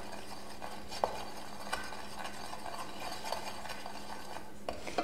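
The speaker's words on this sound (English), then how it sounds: "We're going to stir all of these together." Spices, honey and olive oil being stirred together in a pan, a steady scraping swirl with a few sharp utensil clinks against the pan, faint sizzle underneath, no talking.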